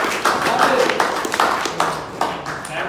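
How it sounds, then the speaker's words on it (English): Applause for two people after a speech, with distinct, uneven claps from a modest group, fairly close and rhythmic, and voices talking over them. "a big round of applause for both of them"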